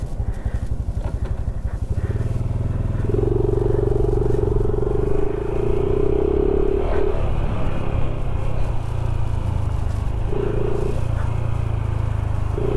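A Honda Super Cub 125 motorcycle fitted with a 14T front sprocket accelerates, its small engine rumbling steadily and rising in pitch through the gears, close and loud for the whole stretch.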